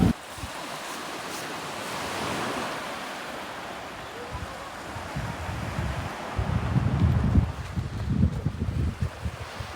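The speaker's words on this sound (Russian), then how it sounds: "Ой, там море." Winter sea waves wash onto the shore, a low rushing surge that swells louder toward the end, mixed with gusty wind buffeting the microphone.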